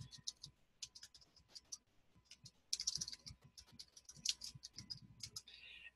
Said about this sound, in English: you can go to the address button and just type it in